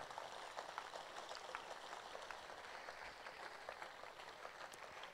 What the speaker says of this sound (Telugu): ఒకసారి లేచి నిలబడి చప్పట్లు కొట్టి వాళ్ళని ఆహ్వానిద్దాం.